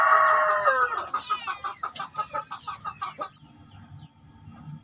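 A rooster crows loudly, followed by a rapid series of rhythmic clucks from a free-range village chicken, fading into quieter backyard farmyard background.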